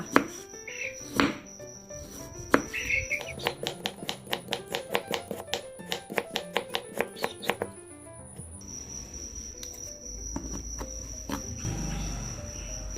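A knife taps rapidly and rhythmically on a cutting board, cutting a carrot into thin strips, a fast run of crisp chops lasting several seconds, then slowing to scattered cuts.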